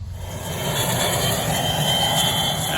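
A crop duster airplane engine starts up at a small-town fly-in airfield, a loud, close, steady roar of engine noise that holds throughout.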